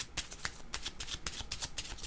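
A deck of tarot cards being shuffled close up, a quick run of soft, crisp riffling flicks in an even rhythm, quiet and alone with no voices.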